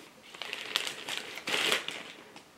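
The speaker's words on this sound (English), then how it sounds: "I can open packages with these scissors because they're old and aren't sharp anymore." Plastic packaging for a wool felting kit crinkles and rustles up close in short bursts as it is cut open with old, blunt scissors.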